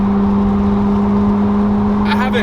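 A Ferrari 458 Spider's engine drones loud and steady from inside the car, a constant strong tone with a rising whine near the end, no voices heard.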